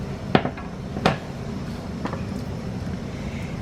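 Cucumber pieces for a Lao cucumber salad drop into a bowl in two distinct clattering knocks close by, then a softer tap, over a quiet room.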